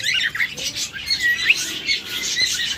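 A pair of pet cockatiels squawk and chirp in quick, shrill bursts at close range, their calls overlapping in an irregular rhythm with no talking.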